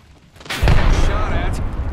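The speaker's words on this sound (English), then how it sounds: "Throwing Arcstar." Arcstar grenade thrown and detonating in the shooter game Apex Legends, a loud sudden blast after a brief quiet, with crackling rumble trailing off and a voice talking under it.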